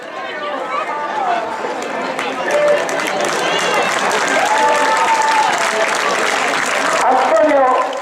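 Crowd applause for race runner Antonio Serrat Sebane, Galician triathlon champion, at a popular footrace in Meaño, a sustained clapping from a nearby crowd, with voices and cheering mixed in throughout.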